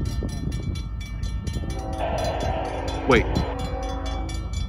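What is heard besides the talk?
long CSX freight train passing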